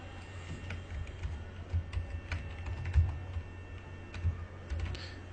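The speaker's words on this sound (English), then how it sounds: "Type in here the characters." Typing on a computer keyboard, steady light key clicks in an irregular run throughout, close and quiet with a low background hum.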